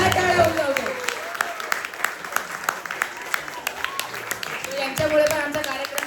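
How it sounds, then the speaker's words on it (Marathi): An audience claps at a handwritten-magazine launch ceremony. Scattered sharp claps run steadily beneath a speaking voice and grow denser toward the end. "या तिघांसाठी जोरदार टाळ्या वाजवतो."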